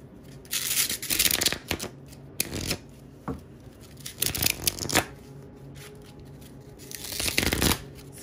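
A brand new Mythic Oracle card deck is shuffled in several crisp, riffling bursts, some close and sharp, separated by brief quiet pauses with no talking.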